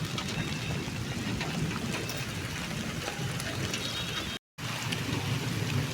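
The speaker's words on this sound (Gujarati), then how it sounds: "તો ફાઇનલી વરસાદ ચાલુ થઈ ગયો કમોરસી વરસાદ" Steady unseasonal rainfall pattering on surfaces nearby, a continuous broad wash of sound with a brief dropout near the end.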